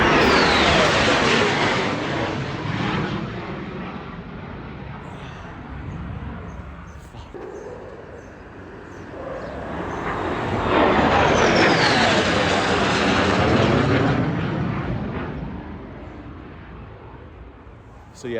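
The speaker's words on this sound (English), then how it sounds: "That sounds like a jet." Jet fighter flying through the Mach Loop, a broad roar that fades, then swells again to a loud sweeping pass before trailing off, heard outdoors from the ground.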